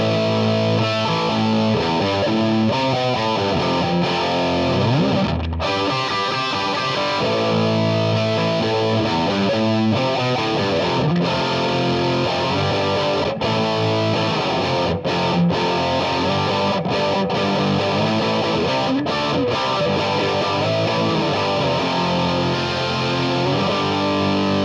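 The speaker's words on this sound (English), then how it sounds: "When we get into high gain land, you'll hear these ceramic pickups." An Epiphone Les Paul Studio electric guitar with ceramic pickups plays loud through a high-gain distorted amp, dense chords and riffs ringing continuously and close with brief choked pauses, no voice over it.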